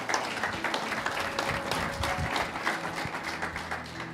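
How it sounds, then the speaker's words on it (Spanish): A church congregation applauds, with dense, sustained clapping from many hands that fills the room evenly for several seconds. "Dale un aplauso al Señor."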